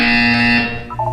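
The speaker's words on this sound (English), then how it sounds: "You will hear a buzzer. When you hear the buzzer, look up at the ceiling." A buzzer from the video game Portal 2 blares loud and harsh for about half a second, then fades into a quieter electronic tone.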